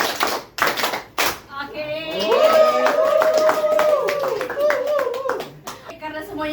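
A group of people clapping together during a counted classroom clapping game in a group counseling session; a few sharp claps open, then voices chatter and laugh over the room.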